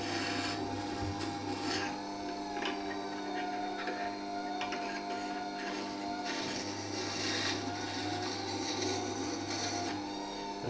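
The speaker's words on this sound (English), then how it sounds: "I can slide it across the stone, which will help to give me an even amount of wear on the stone" A carving V tool slides steadily across a sharpening stone, a continuous close grinding rasp with a constant background hum running throughout.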